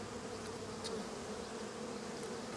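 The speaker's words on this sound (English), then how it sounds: "there is a lot more bees in here than in the Monty hive" Honey bees buzzing inside an open hive during a split, a dense continuous drone with no break, fairly quiet and even throughout.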